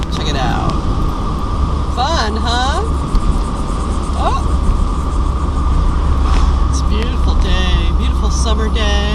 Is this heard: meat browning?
no